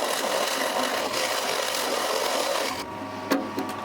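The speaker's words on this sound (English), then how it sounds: "So I'm going to use the lovely Forstner bit to drill a clearance hole at the back." A Forstner bit in a pillar drill bores a clearance hole into wood, a steady close rasping grind that runs for about three seconds and then stops, leaving a quieter spin-down with a couple of small knocks.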